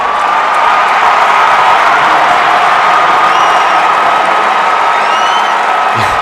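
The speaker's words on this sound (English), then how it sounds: "You can hear the crowd as Coach Jason Todd is whipping the towel for the faithful" A large football stadium crowd at a high school state championship game roars in a continuous, loud wash of cheering and whooping, with a few whistles rising above the din.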